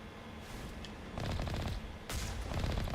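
Vehicle-mounted gun fires in the video game Mass Effect, with two loud, sustained bursts of rapid shots separated by a short gap.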